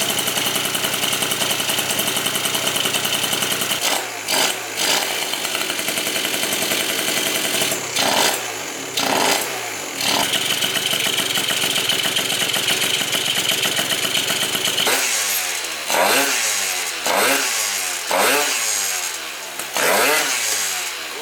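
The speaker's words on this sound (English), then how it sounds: "First fire up ever on this engine." A scooter engine that previously would not start runs for the first time after a repair, idling steadily and revving up loudly in repeated short bursts, with quick blips later on.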